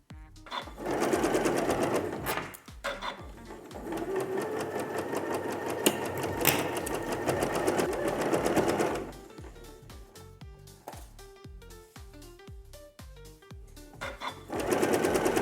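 Sewing machine stitching the final seam of a bear claw quilt, running in long steady stretches with a slower, clicking section between them, close up.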